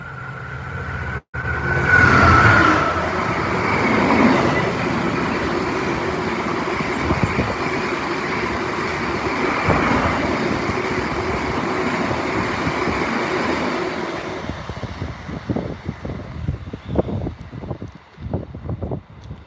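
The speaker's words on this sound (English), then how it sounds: "Now this is definitely a freight train." A long freight train rolls past with a loud, sustained rumble and roar that holds steady, then breaks near the end into a quick series of rhythmic wheel clacks as the cars pass.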